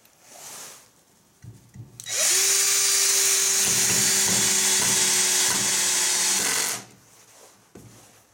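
An AEG BS14 G3 cordless drill-driver drives a screw in one sustained, loud whirring burst lasting about four and a half seconds, its motor holding a steady pitch before stopping abruptly, with quiet handling noises before and after.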